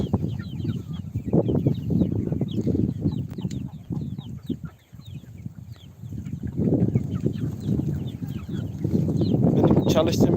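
Several chickens cluck and chatter continuously nearby, a busy, overlapping flock sound with no clear pauses.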